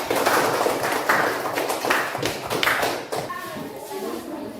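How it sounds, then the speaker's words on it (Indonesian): Classroom applause for a student group's answer, a burst of scattered claps lasting a few seconds, mixed with shuffling and murmuring voices before fading out. "Tepuk tangan dulu."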